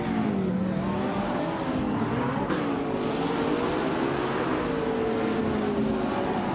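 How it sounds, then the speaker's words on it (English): A 2015 Koenigsegg Agera RS at race speed in a video game, its engine a loud, sustained high-revving roar with shifting pitch, close and steady throughout, without speech. "Dale Earnhardt is driving a 2015 Koenigsegg Agera RS and is currently in 2nd place"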